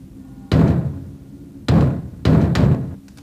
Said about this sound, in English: Sounds like somebody's braying on the door.